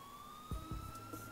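An ambulance siren wails faintly in the distance in the police video game LCPDFR, a thin rising tone with a few dull thumps beneath it.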